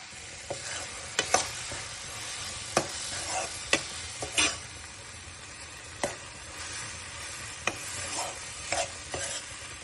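Tomatoes sautéing in a pan with rock salt for an egg gravy, a faint steady sizzle broken by soft clicks and scrapes from stirring, no voices.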